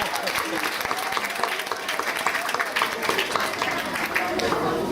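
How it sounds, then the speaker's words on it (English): Sustained, dense applause from a crowd at a boys' school graduation ceremony, with steady clapping filling the whole stretch and a voice faintly audible underneath. "Let's give him a round of applause also."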